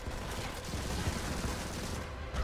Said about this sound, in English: Can you stop shooting at me, please?